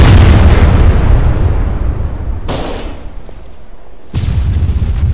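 A loud, close explosion in ArmA 3 as an armed APC is destroyed on a road, a dense rumbling blast that decays and then swells again with two sharp secondary bursts.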